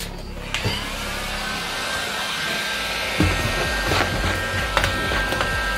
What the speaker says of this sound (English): There's the heat gun.